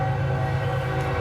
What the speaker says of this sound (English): Pardon the train.